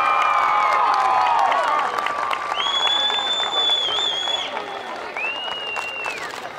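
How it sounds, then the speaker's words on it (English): Crowd at a 2015 high school homecoming football game applauding and cheering the newly crowned homecoming king and queen, a loud wash of clapping and shouts with whistles rising over it, slowly easing off. "A big round of applause for 2015 King and Queen"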